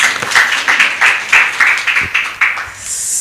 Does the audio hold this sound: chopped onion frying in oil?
no